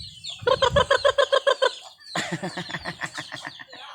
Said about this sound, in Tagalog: Ato ihatag sa mga manok mga maring kay atuktukon man ni siya sa mga manok.